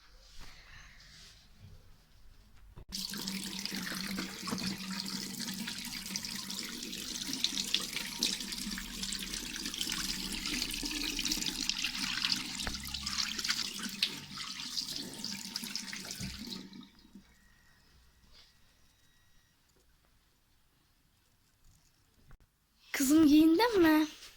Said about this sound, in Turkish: Bari soğuk suyla yıka da.